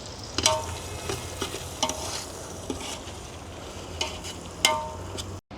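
Garlic paste sizzles and frying crackles steadily in a pot over a wood fire by a creek, broken by several sharp scraping stirs of a spoon against the metal.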